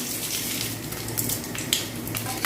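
Mustard seeds frying in hot oil as the tempering for semiya upma, a dense steady sizzle with tiny pops and crackles throughout, close and continuous.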